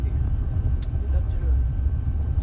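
A Mahindra Scorpio N petrol automatic SUV drives along with a steady low road rumble and engine drone heard from inside the cabin, even and unbroken, while people talk over it.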